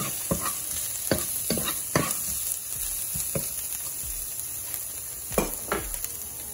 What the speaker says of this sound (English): Gonna saute this around for 1 minute.